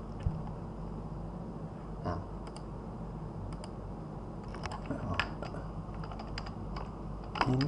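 Computer keyboard typing, a quiet run of light clicks and taps spread irregularly across several seconds with brief clustered bursts.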